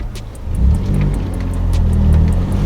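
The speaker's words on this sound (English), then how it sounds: "So this is the first time we're driving the Civic in two months?" Honda Civic with a newly installed short shifter driving along, its engine a loud steady mid-range rumble that swells slightly as it accelerates, heard from close by with a faint regular ticking above.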